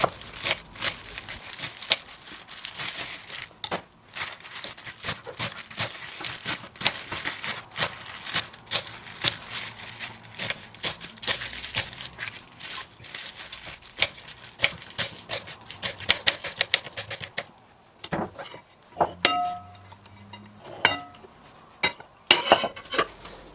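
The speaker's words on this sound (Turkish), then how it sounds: "250 gram yıkanmış ıspanağı ince olacak şekilde dilimler halinde kesiyorum." A knife thinly slices 250 grams of washed spinach on a board, giving a long run of rapid, crisp cuts at close range; a pause follows, then a few scattered clinks and knocks of kitchen handling.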